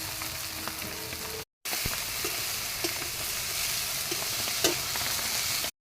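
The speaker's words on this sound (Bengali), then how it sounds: "শুকনো লঙ্কা দিয়েছি প্রথমে, পেঁয়াজ দিয়ে দেবো, এবার কচুর লতি দিয়ে দেবো ওর মধ্যে।" Taro stolons, dried red chilli and onion frying in hot oil, a dense, steady sizzle up close with occasional light stirring clicks and one brief gap of silence partway through, no talking.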